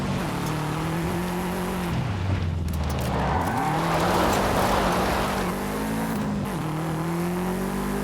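Handbrake skid of a car in the Forza Horizon 5 racing game: a steady engine drone with rising and falling revs while tires squeal and scrub through the slide, loud and continuous for the whole stretch.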